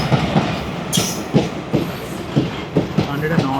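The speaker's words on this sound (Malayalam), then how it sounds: "ഇതാണ് ആലപ്പുഴ എറണാകുളം പാസഞ്ചർ." Alappuzha–Ernakulam passenger train rolling past close by, with a steady run of rhythmic wheel clacks over rail joints and a brief high screech partway through, the rumble holding throughout.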